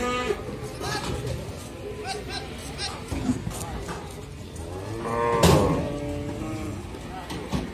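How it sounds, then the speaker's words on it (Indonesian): Jumbo cattle at the Pon Ambarawa livestock market in Semarang low and moo amid a steady crowd murmur, with a louder bellow near the end and people talking nearby. "Ini kita lihat sapi jumbo, sapi lemon di sebelah sana teman-teman."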